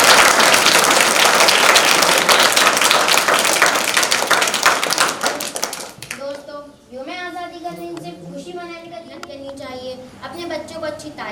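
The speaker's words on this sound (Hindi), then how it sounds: "तो दोस्तों, सभी मेहमानों का जोरदार तालियों से इस्तकबाल करते" Dense applause from a crowd welcoming guests at an Independence Day event at a madrasa fills the opening seconds loud and continuous, then fades as a voice speaks over a few scattered claps.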